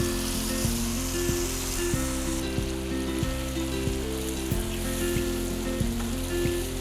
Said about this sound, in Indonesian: Nah, ini kita mau tumis sampai dia benar-benar harum.